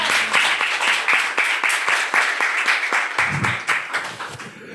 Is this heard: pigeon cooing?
no